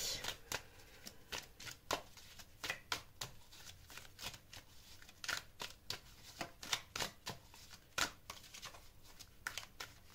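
Tarot cards are shuffled for a reading, a close, quiet run of crisp riffling snaps and flutters repeating in quick irregular bursts, with no talk over them.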